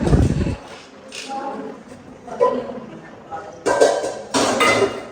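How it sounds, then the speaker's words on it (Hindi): Kitchen pots, pans and utensils are handled and stacked away, giving scattered metallic clanks and clinks in uneven bursts, some sharp and close. Someone talks between the clatter. "हमने एक्स्ट्रा हमारे बर्तन यहाँ पर रखे हैं"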